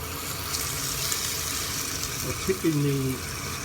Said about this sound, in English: I'm going to add another 250 ml of water to bring it up to 1 litre.